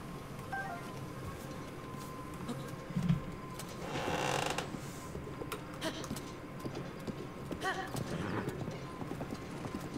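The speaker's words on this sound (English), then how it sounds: "This horse nearly got me hurt." A horse in the video game The Legend of Zelda: Breath of the Wild gallops with steady, rhythmic clip-clop hoofbeats throughout, broken midway by a loud neigh and whinny, plus a few mechanical clicks.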